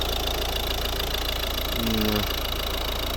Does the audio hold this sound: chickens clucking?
no